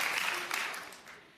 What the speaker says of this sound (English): it deserves a second applause